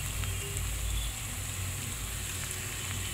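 Salt, turmeric and Kashmiri chilli powder frying in hot oil for a Bengali shol fish curry, giving a steady, close hiss of sizzling with no voices.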